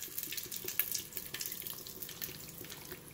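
Coconut oil poured loosely into a vessel while making homemade amla hair oil, a steady liquid trickle and splash running continuously at close range with no talking.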